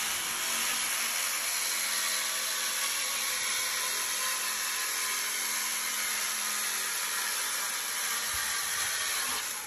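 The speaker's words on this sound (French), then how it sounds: "La coupe est réalisée à la scie alligator." A steady, harsh mechanical whine of an alligator saw cutting through a glued-type Bio'bric 3G clay brick, loud and continuous throughout with no pauses.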